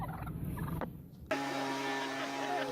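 Turkeys gobbling as a leaf blower is used to scare them away, a short burst of gobbling calls followed by the sudden loud, steady drone of the leaf blower starting up.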